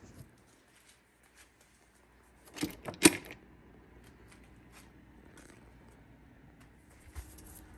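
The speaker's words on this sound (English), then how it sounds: "let's get to tearing this rear section off" Rear fairing panels being pulled from a crashed 2011 Suzuki Hayabusa motorcycle: a brief cluster of sharp plastic clacks and snaps midway through an otherwise quiet workshop, followed by a faint knock near the end.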